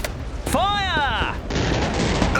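Staged Battle of Waterloo gunfire: a brief crack followed by a rumbling volley effect, with a whooshing, wavering tone over sustained loud noise.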